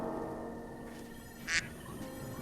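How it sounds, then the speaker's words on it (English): A short, bright duck quack from Legend of Zelda: Breath of the Wild stands out once over a steady background of game ambience and music. "Duck."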